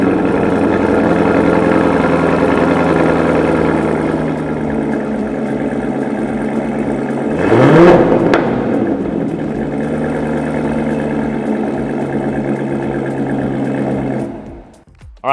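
Corvette C7 ZR1 in Torch Red, 2019, with a Corsa Extreme exhaust, idling loud and steady before a sharp rev blip midway, then settling back to idle and cutting off near the end.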